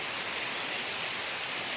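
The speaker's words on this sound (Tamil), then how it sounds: "மழை இப்படி பெய்யுது பா" Heavy rain pouring down in Chennai, a dense, even hiss of falling water that stays loud and unbroken throughout with no voices.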